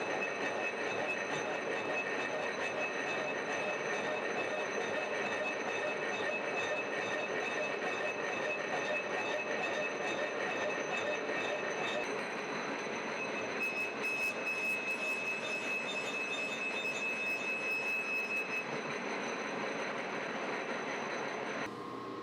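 A boring bar in a lathe cutting a hole in a boat capstan cap, giving a steady broadband grinding hiss with a thin high whine, continuous and fairly quiet, the tone shifting slightly partway through.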